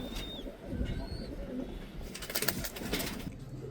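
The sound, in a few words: UK brand pigeons cooing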